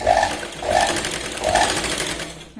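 Sewing machine running in short bursts while stitching the shoulder seam of a Katori blouse, a steady close mechanical whirr that rises and falls three times with no voice.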